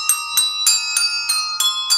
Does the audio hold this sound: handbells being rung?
yes